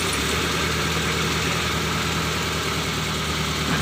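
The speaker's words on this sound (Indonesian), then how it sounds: "Setelah ini kita coba hidupkan untuk mobilnya" Mitsubishi Colt 120 engine idling steadily with a continuous low rumble and a faint mechanical tick, close by and unbroken, with no clear start.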